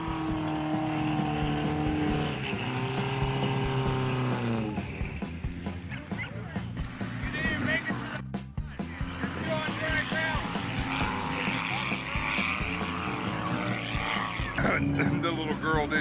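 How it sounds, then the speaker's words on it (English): Toyota truck at a mud bog event driving toward a mud hole, engine revving and whining under a busy crowd and announcer talk, with the motor note rising and falling in bursts. "Looks like James is going to try it in his Toyota."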